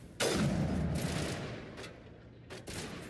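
Sustained burst of automatic gunfire from the Mass Effect video game, loud and continuous for most of the stretch with brief dips and a renewed burst near the end, no talking.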